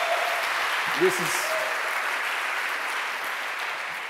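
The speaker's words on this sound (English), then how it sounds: "thank you for the clapping" Audience applause at a tech conference talk, a steady broad wash of clapping from a crowd that carries through the whole stretch while a voice speaks briefly over it.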